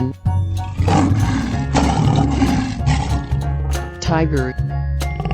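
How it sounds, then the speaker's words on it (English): A lion roars in a 3D animal slide game, a loud, sustained roar over a constant musical backing, with a brief break and a rising, wavering cry near the end. "Lion."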